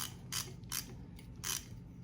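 A nut being tightened with a ratchet wrench on a Volkswagen Beetle drum brake: three short bursts of ratchet clicking, close and moderately loud, with no voices.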